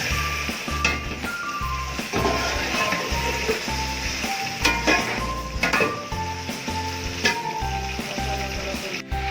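Chicken sizzles loudly in a hot pot with whole spices such as black pepper and cloves, a constant crackling fry with occasional clinks and stirring, while a repeating electronic tone beeps faintly in the background.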